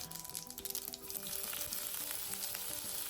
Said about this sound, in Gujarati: ગરમ થવા દેવું અને રાઈનો વઘાર કરવો